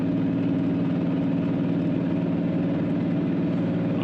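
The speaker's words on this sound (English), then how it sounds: "I'm slowly having to put more and more throttle on to maintain that 100 k's an hour." Turbocharged 1HZ diesel engine in a 105 series vehicle cruising at 100 km/h up an incline, a steady loud low drone with constant rumble and no speech.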